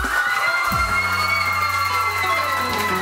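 A TV studio audience on a morning show claps and cheers loudly, with whoops and excited shouting running through the whole stretch.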